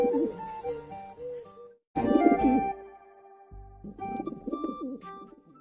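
A pigeon coos in several soft, throaty, warbling phrases, separated by short pauses, close and fairly clear.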